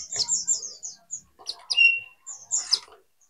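A pleci, or white-eye, bird gives quick bursts of high, thin chirps and short twitters, close and fairly loud, with brief pauses between phrases and no voices.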